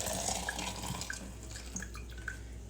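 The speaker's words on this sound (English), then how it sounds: "Add our boiling hot water here that I have went ahead" Boiling hot water, heated on a stovetop, is poured for a morning coffee, a soft trickling and dripping with a few light splashes, fairly quiet and without speech.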